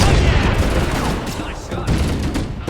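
Rapid bursts of gunfire in Halo: Combat Evolved, dense and sustained across the whole moment, loud and close with a voice faintly under the shooting.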